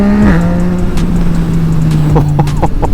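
Yamaha MT-09 motorcycle engine revving loud and close, a sustained howl with quick pitch drops and sharp crackling pops as the quickshifter cuts in, plus faint background voices.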